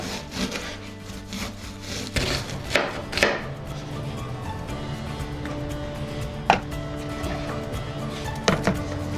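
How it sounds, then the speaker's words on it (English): A knife finely chops onions for a beef dumpling filling, with irregular crisp taps and scraping strokes, some louder than others, up close against a faint room background. "First, we'll finely chop the onions."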